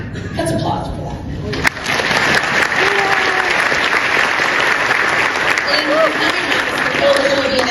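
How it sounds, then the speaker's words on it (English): Audience at a journalism awards event honouring courageous reporters breaks into loud, sustained applause after a brief softer lead-in, dense clapping filling the room for several seconds with some voices faintly beneath. "Let's applaud for that."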